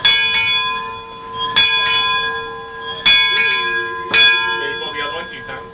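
A brass bell in the wheelhouse of the Mark Twain riverboat at Disneyland is struck four times at roughly one-second intervals, each clang ringing out and fading, with a steady whistle-like tone and faint voices in the background.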